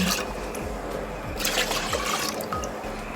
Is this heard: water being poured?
yes